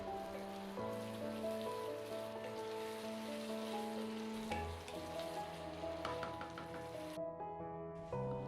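Onion, ginger and garlic paste fries in a pan for chicken korma, a steady soft sizzle heard under prominent background music.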